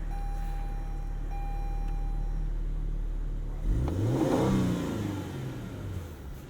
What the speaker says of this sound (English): Twin turbo V6, you can hear starting up there.